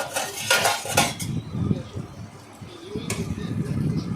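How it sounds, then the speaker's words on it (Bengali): A metal spoon scrapes and clinks against a pan while cabbage curry with fish bones is stirred, with a few sharp clanks early on, then softer scraping and shuffling, close and moderately loud. "এদিকে ওদিকে নাড়াচাড়া করলাম বাঁধাকপিটাকে"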